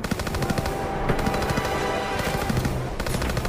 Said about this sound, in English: Rounds are everywhere!